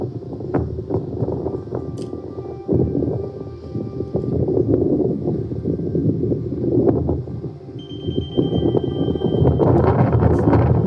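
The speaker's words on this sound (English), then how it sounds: "some of the locations are quite windy, so you'll have to bear with that" Wind gusts across a mountain site and buffets the microphone, producing a continuous low rumbling roar with uneven surges and small knocks throughout.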